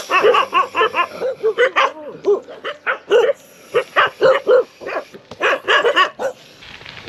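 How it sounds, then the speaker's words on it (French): A dog barks repeatedly at a cyclist on a road in Sri Lanka, with quick, loud, close bursts of barking and yips that come in rapid clusters with short pauses between them. "Voilà, il y a du chien."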